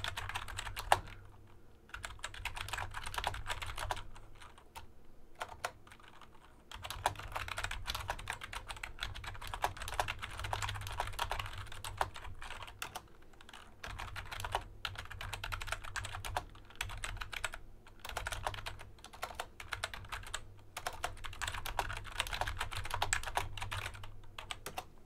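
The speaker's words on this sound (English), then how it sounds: "it's just a cheap keyboard" Rapid, continuous clatter of keys on a cheap computer keyboard, close-up, in bursts separated by short pauses, with no talking.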